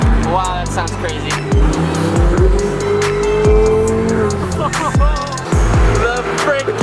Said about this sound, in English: The freaking 488 sounds nuts.